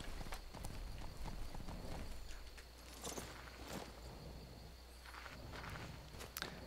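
Horse hooves in the Skyrim video game, a busy run of clip-clopping steps over a constant background hum and scattered clicks, moderately loud and continuous.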